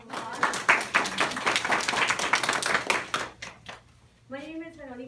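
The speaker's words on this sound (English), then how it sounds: "Let's give Esmeralda a big round of applause." An audience claps in a burst of sharp, dense applause for several seconds, fading out before a single voice begins speaking at the end.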